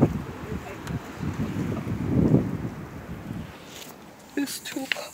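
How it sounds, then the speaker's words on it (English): Blizzard wind gusts roar and rumble against the microphone outdoors at night, swelling and fading before easing off, with brief bumps and handling noises near the end. "That's the wind."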